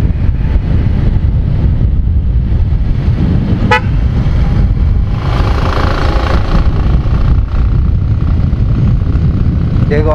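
A motorcycle's dual tone horn honks once in a short burst amid steady engine and wind noise while riding on a road, with a rider talking throughout.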